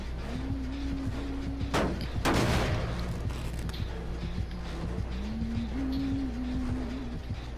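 A few sharp cracks and bangs pop over a constant low rumble, with one louder burst in the middle, sounding like distant fireworks in Dead by Daylight.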